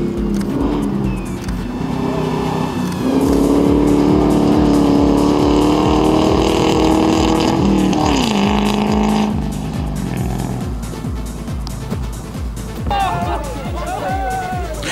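A 4x4 Range Rover rally car drives a stage of the August 2007 Nane Nane rally in Tanzania, its engine droning steadily and loud and rising in pitch as it accelerates through most of the stretch.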